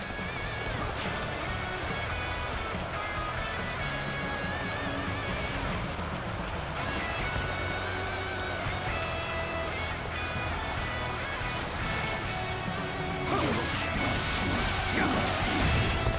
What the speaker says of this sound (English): let your arrows rain down upon their heads!